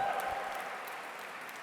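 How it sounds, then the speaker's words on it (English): Applause from a gala audience in a large hall at the London Role Model Gala, a brief soft patter of clapping that fades steadily over its short span, distant and faint. "you can applaud that"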